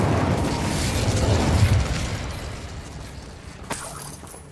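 An Incendio fire spell cast in Hogwarts Legacy, a loud whooshing burst of flame that swells and crackles, then fades into a low rumble with a sharp snap near the end.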